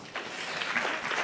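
Audience applause after a call to thank a rural tourism company at a business event, a brief moderate burst of many hands clapping that swells quickly and stays steady, somewhat distant.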